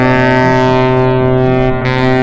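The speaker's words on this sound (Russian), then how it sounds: "лодка, катер," A motor boat engine drones steadily and loudly with a rich, even hum that barely changes for a couple of seconds, with no voices.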